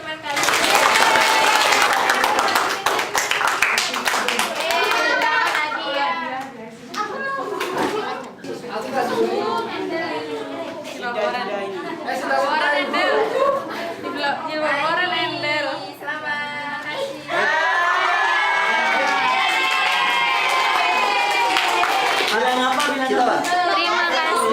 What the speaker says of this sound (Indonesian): Beri tepuk tangan kepada 2 teman kalian.